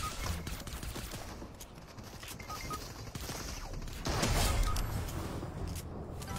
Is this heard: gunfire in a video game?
yes